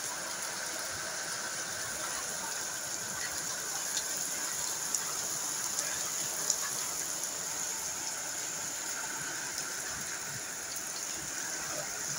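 Steady rain pours in La Cañada, El Marqués, Querétaro, during the first rains of 2022, a dense, even hiss that holds unchanged throughout, with faint scattered drips.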